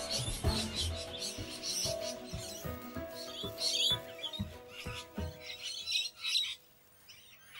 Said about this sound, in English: the curious, social, bonding, noisy parrots